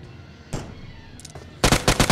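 Gunfire in the BGMI battle-royale game: a single shot, then a fast burst of automatic rounds at the end, loud and close.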